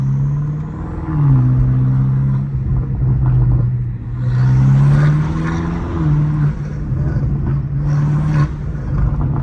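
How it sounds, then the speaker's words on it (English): A BMW M5 Competition engine rumbles steadily at low revs in second gear while a faint high stock-turbo whistle rises and falls above it, close and continuous. "the turbos whistle so loud, like on the lowest RPMs, lowest speeds, everything low, and it just whistles"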